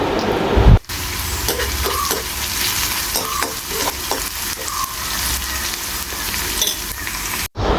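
Beetroot frying in a pan, stirred for an easy home recipe, makes a loud continuous sizzle with repeated scraping and tapping of the utensil, and a brief clunk at the start and end.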